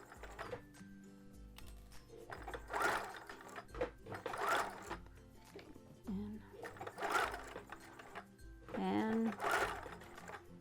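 A sewing machine backstitches a racerback sports bra strap in repeated short bursts of rapid stitching, moving forward and reverse, with pauses between runs and someone talking softly.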